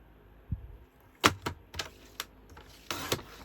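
Cardstock being trimmed down to size for a fun fold crossover card brings a handful of sharp, close clicks and short scraping strokes, spaced irregularly over a quiet background.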